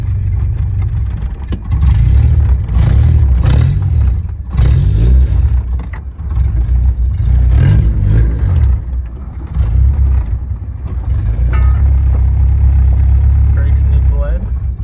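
B-series swapped Honda EK hatchback engine running close by, settling into a rough idle between several sharp revs that rise and fall, with some clatter and a voice talking over it.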